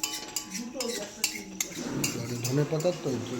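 Utensil scraping and clinking in a pot of thick, well-reduced meat curry during final stirring, a steady run of clatter with faint background voices underneath.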